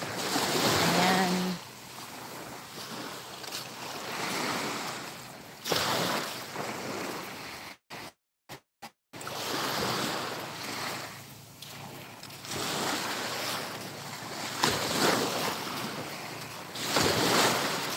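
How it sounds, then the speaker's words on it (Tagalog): Sea waves washing ashore along a coastline below mountains in fine weather, surging and receding in broad swells with wind buffeting the microphone, broken by a brief dropout; someone talks at times over the surf. "Ayan po ang dagat."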